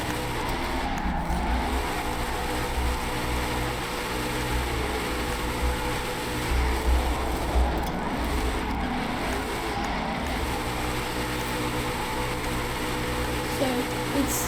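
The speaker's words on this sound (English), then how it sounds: "I'm going to try and go without using the handbrake for the next couple of turns, just to show you how it can slide easily" A car drifts through a series of turns without the handbrake, its engine droning loudly and steadily throughout, with faint tire noise blending into the constant roar.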